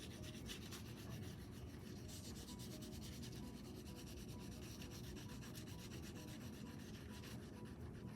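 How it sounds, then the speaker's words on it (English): A metallic crayon rubs across paper, shading snow in a drawing, giving a steady dry scratchy texture that runs continuously without pauses, close and fairly quiet. "Ooh, I found a metallic crayon. Maybe I'll add some texture here in the snow."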